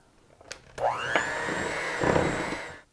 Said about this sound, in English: So I'm going to blend them together.